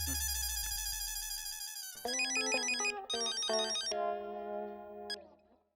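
A phone ringtone plays as a call is placed, a bright electronic melody of repeated chiming notes in phrases, starting with a held tone and then stepping through a tune before fading out.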